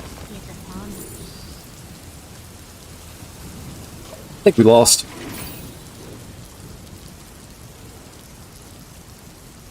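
Steady rain plays as a constant background hiss behind a Hearthstone game stream, with a brief loud burst of game sound midway and someone speaking over it.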